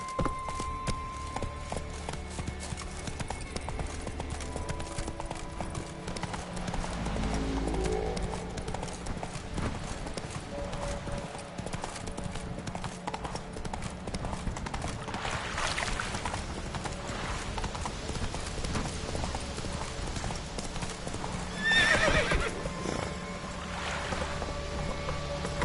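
Horse hooves clip-clop at a steady gait over a low, continuous outdoor rumble, fairly faint and distant, with a brief louder burst near the end.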